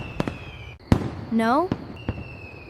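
Fireworks burst on the 4th of July, with several sharp cracks spread across a few seconds and a brief rising whistle in the middle, heard under a family talking and reacting.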